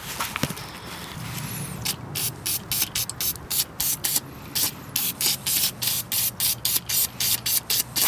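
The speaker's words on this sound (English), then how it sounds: "you're going to want to take some cleaner and clean out all that dirt" Cleaner is sprayed onto a STIHL SH56C blower filter housing in a rapid series of short, loud hissing bursts with a steady pulsing rhythm, after a longer continuous spray at the start.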